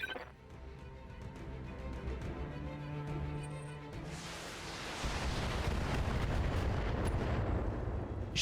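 Mech weapons in the video game Battletech blast away at enemy vehicles, a heavy rolling barrage of booming impacts and crashes that swells into a dense, loud roar in the second half.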